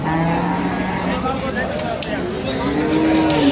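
Cattle low at a busy livestock market in Ambari, with a drawn-out moo among the noisy crowd and distant engines, while people talk nearby.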